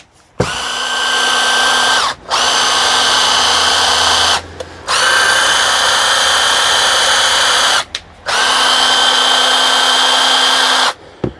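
A Makita battery impact wrench with a newly replaced motor runs in four loud, sustained bursts of high electric whine, close up, separated by short pauses and clicks of the trigger.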